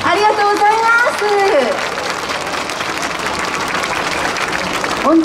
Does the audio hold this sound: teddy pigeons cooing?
no